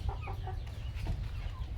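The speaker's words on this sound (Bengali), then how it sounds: "আমার মুরগিগুলো।" Native chickens kept in layer-style wire cages cluck steadily and close by, a dense overlapping flock murmur with short rhythmic clucks over a constant low hum.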